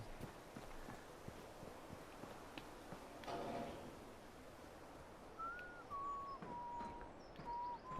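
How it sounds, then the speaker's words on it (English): Birds chirp in Fallout 4, faint scattered tweets over soft ambient wind and occasional footstep sounds, with a few clearer whistled calls toward the end. "I hear birds."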